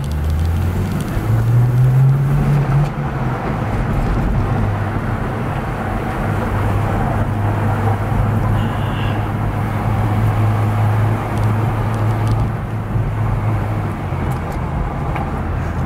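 Aston Martin DB7 engine running smoothly at a steady idle, a continuous low hum with one brief rise in pitch early on, close by and alone.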